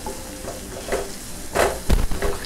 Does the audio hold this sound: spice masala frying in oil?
yes